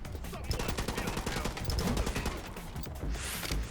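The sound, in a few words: gunfire in the video game The Club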